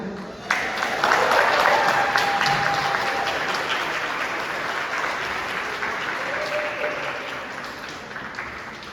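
A dinner audience breaks into warm applause to welcome keynote speaker Susana Almanza. The clapping starts abruptly, peaks in the first seconds, then continues steadily and slowly fades over nine seconds.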